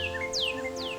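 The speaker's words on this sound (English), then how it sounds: "That sound of songs and chirps and calls," Birds in a healthy setting give a few quick, bright chirps and sweeping call notes, faint and brief over a steady background hum.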